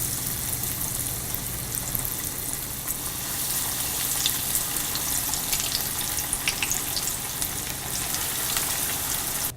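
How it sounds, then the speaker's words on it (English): Steady crackling sizzle of chicken pieces deep frying in hot oil, with scattered sharp pops, constant and close. "Once the oil is hot, add chicken pieces into it."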